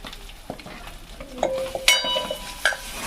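Eggplant pieces dropped into a hot pan and stirred for a village-style sole vange curry with turmeric and salt, heard as close sizzling frying with spoon scrapes and metallic clinks against the pan.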